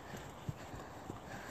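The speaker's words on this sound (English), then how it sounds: "Nothing like sitting a horse kind of going down a hill." Soft, uneven hoof thuds from a ridden horse walking down a hill incline, a few light clops close by against quiet outdoor background.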